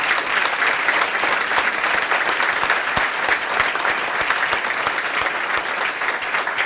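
A large audience at a women's achievement awards ceremony applauds steadily, dense sustained clapping from many hands holding even and loud throughout, with no voices on top.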